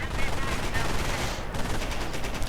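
An MG42 machine gun fires in a wartime strategy video game, heard as a dense, continuous rattle of rapid automatic fire mixed with other battle noise, moderately loud throughout.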